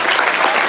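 Applause from an audience at an Isra Miraj commemoration gathering, a dense, steady burst of many hands clapping together, loud and close throughout the brief moment.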